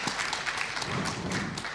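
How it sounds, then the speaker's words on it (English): Applause breaks out for a university hackathon team after their demo, a steady wash of clapping from a crowd filling the moment without pause, no voices over it. "And give an applause."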